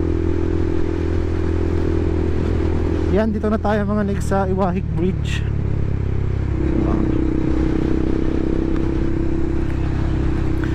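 A Honda Beat scooter rides along a road toward a bridge in Palawan, with a steady engine and road drone running throughout. Someone talks over it for a few seconds partway through.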